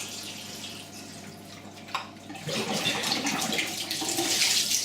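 Water runs into a Bosch dishwasher type SM6P1B that has E24 and E15 faults, a rushing, splashing flow that grows louder and fuller partway through, close by with no talk.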